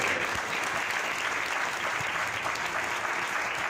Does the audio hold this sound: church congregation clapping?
yes